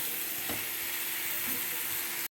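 Jackfruit and prawn curry is being cooked down in a pan. A continuous close sizzle runs throughout with a couple of soft stirring scrapes, then stops abruptly.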